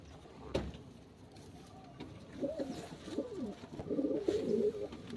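A tournament pigeon coos several times in soft, rolling phrases at close range over a quiet outdoor background, with a brief knock near the start.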